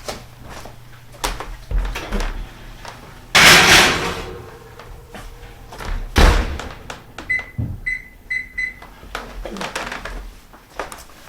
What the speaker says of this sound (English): So let me go ahead and put this in the oven.